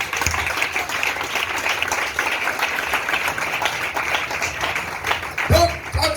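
A church congregation claps and cheers together for the Lord in steady, dense applause that fills the room, with a voice rising briefly near the end.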